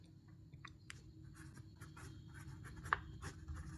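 A pen scratches across paper as a Class 10 math problem is written out, with soft intermittent strokes and small taps close up and quiet over a low room hum.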